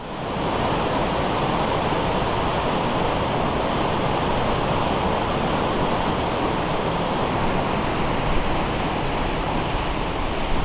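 Steady, broadband rush of a waterfall just around a river bend, constant and fairly loud throughout with no voices over it.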